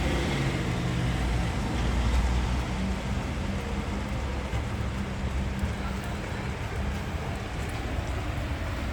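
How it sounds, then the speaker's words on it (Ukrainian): Steady rain falls outside a balcony in central Lviv, a dense, even hiss of drops with a low rumble of street traffic beneath it, continuous and moderately loud throughout. "Зараз падає дощ."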